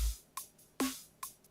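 A sparse drum pattern produced in Ableton Live: a deep kick, a crisp snare crack and bright open hi-hat hits, alternating at a steady pace, fairly quiet.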